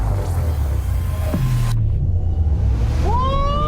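A 2024 Chevy Blazer EV SS electric SUV accelerating in wild mode, a loud, steady low rumble of road and motor noise heard from inside, with a rising electric whine sweeping upward near the end.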